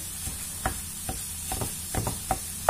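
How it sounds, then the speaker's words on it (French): Minced meat sizzles quietly in a pan over cooked vegetables while a utensil breaks it up, giving several distinct scraping taps against the pan over a low frying hiss. "on va rajouter notre viande. Et on va essayer de l'émietter."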